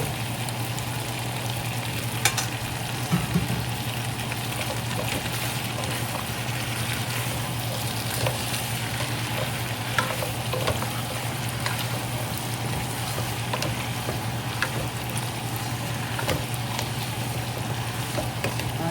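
Pork ribs frying in a pan coated with tomato paste, producing a continuous moderate sizzle and bubbling hiss over a low steady hum, with no voices.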